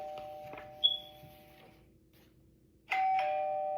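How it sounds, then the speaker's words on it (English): A doorbell chimes twice, a clear ding-dong with ringing tones that decay, then a second louder ring near the end, in an otherwise quiet room. "And guess what? The doorbell rang."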